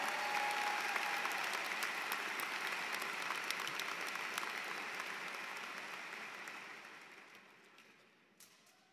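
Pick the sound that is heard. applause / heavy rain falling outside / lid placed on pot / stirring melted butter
applause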